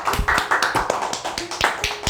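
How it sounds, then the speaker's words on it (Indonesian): A small group clapping hands at a gathering, a few close, uneven claps repeating over about two seconds with some faint tones in the background. "Tepuk tangan dong."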